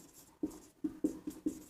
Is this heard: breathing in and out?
no